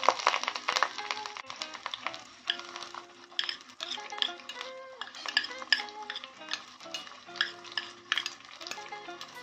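Chopped onion frying in hot oil with mustard seeds, cumin and curry leaves, a close sizzle broken by repeated spatula scrapes and stirring clinks against the pan, with no talking.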